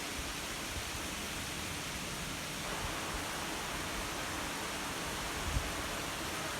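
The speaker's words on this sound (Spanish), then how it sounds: "Vaya forma de llover." Heavy rain pours down in Etxebarri, Bizkaia, during Storm Kirk, a dense, constant hiss, loud and unbroken, with no voices.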